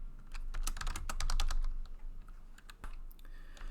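Fast typing on a computer keyboard, a close, busy patter of key clicks that is densest at the start and then thins into scattered strokes.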